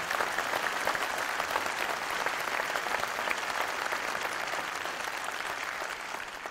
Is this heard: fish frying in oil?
no